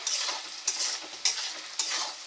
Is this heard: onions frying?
yes